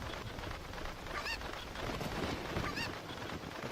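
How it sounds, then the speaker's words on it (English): A chicken in Zelda: Ocarina of Time gives two short, clucky squawks amid constant game background noise, the calls spaced apart and moderately loud. "There's a chicken. I'm curious what happens if I take this chicken."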